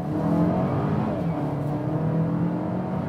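A Volvo XC40 R-Design T5 in dynamic mode accelerates hard, its engine a loud, sustained roar that rises steadily in pitch throughout.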